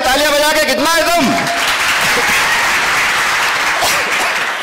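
An outdoor election-debate crowd in Khargone claps after a voice finishes speaking, the applause swelling into a broad, continuous clatter that carries on to the end.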